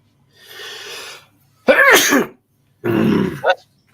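Several sharp sneezes burst out one after another, close and loud, with short quiet gaps between them.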